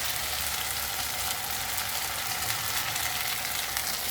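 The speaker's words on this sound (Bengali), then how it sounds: "আমি কিছুটা ভেজে দেবো আর কিছুটা" Pieces of mann kochu, giant taro, fry in a pan with a steady, close hiss and sizzle, constant and fairly loud, no talking.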